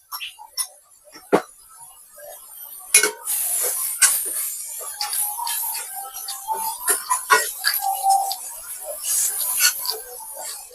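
Chili powder frying in oil in a pan for Andhra-style fish pulusu: light crackling sizzle with intermittent sharp clinks of a utensil against the pan, fairly close and steady.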